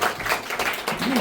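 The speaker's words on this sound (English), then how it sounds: "give a round of applause for all the comedians who saw me" A theater comedy crowd at the Hobnob Theatre in Butler, PA gives the comedians a brief round of applause, a short, dense burst of clapping mixed with voices.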